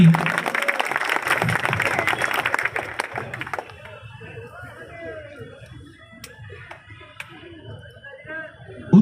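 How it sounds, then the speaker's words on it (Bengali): A crowd at a blood donation camp in Sonpur Bazar claps loudly for about three and a half seconds, then the applause fades into scattered claps and murmuring voices, with a speaker talking over the thinning noise. "জোরে হাততালি, দুষ্টু লোকেদের কানে যেন পৌঁছে যায় এই হাততালি"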